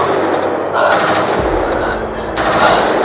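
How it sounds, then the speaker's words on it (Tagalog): Two loud bursts of rapid automatic gunfire ring out close by, separated by a brief pause. "Ang dami putok dito."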